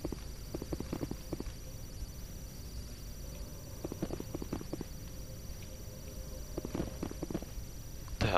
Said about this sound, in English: Hear all those footsteps.